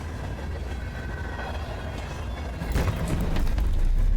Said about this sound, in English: we on a train that's moving